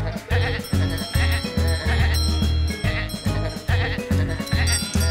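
Goats on a farm bleat loudly and repeatedly, several overlapping calls close by, with rhythmic rustling and movement noise throughout.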